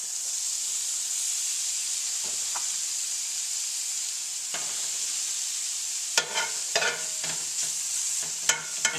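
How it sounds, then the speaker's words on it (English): Thin-sliced steak for a cheesesteak sizzles steadily in a hot skillet, a constant bright hiss with a few louder crackling bursts and clatters near the end; no one speaks. "just drop it in the hot skillet"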